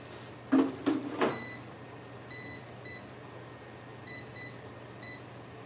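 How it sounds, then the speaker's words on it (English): An air fryer toasting buns gives a few short, clear electronic beeps spaced over several seconds, close and moderately loud, after some dull knocks of the basket or door being handled, with a low steady hum underneath and no talk. "you get my buns in the air fryer"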